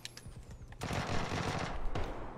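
Rapid bursts of automatic gunfire in the battle royale game PUBG, loud and dense, filling most of the short stretch after a brief quieter start.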